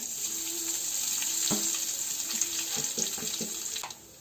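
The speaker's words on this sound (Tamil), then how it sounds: "எண்ணெய்க்கு அப்புறம் வந்து நான் கடுகு ஆட் பண்றேன். இது கூட வந்து சீரகம்." Mustard seeds and cumin hit hot oil in a pan for a rava idli tempering, giving a steady close sizzle with scattered crackling pops that cuts off near the end.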